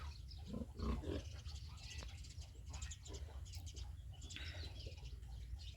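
Pigs in a pig pen on a farm give off grunts and snorts over a steady low rumble of background noise, moderately close, mixed with faint bird calls and no clear talking.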